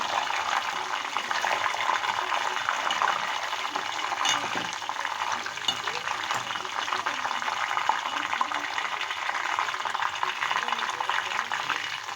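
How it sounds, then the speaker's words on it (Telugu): Hair oil with hibiscus flowers and bhringraj boils in a pot, giving an unbroken, dense bubbling hiss that holds at an even level throughout. "బాగా మరగనివ్వాలి ఫ్రెండ్స్"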